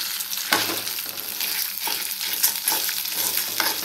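Urad dal and chana dal fry in oil for pirandai podi, giving a continuous sizzle broken by repeated scraping stirs. The sound is close and fairly loud, with no voices.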